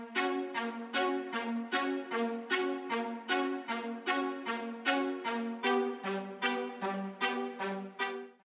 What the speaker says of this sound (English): It could be strings.